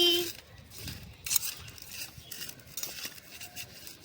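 A spoon scraping and clinking in a small pot while fried spice mix is stirred into amla pickle in a mini kitchen, irregular soft knocks and scrapes, fairly quiet and close.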